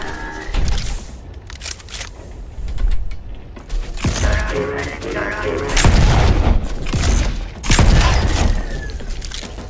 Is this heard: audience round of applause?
no